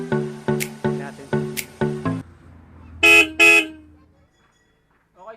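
Two bursts of a loud, harmonic dual car horn blast near the mic, following a run of short rhythmic beeps or chirps, then quiet.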